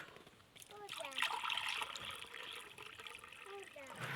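Clean water being poured for farm rabbits in a countryside setting, a steady soft trickling and splashing that runs throughout, with a voice speaking faintly over it.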